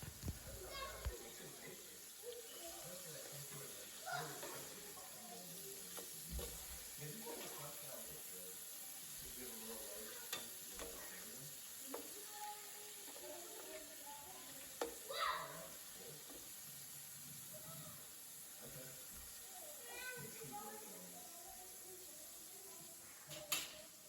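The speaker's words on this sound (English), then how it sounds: "So you're just gonna fry them, let them get brown on each side before you take them out." Pork chops sizzle and crackle steadily in oil in a pan throughout, with occasional louder pops and clinks, under intermittent nearby talk.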